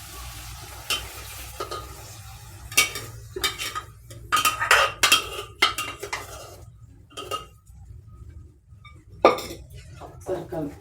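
Moong beans are tipped into a pot of brinjal and carrot stew, with close clinks, a rattling pour and stirring scrapes against the pot, and a voice talking at times.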